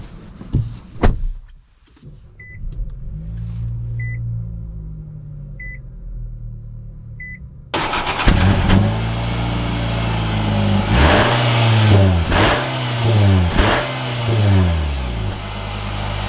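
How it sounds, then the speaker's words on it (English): Cabin of a 2021 Nissan Sentra SR, opening with a few soft chime beeps and a low idle, then the engine pulls away and revs through several rising and falling sweeps, loud and close. "let's take the Sentra out and see how it drives."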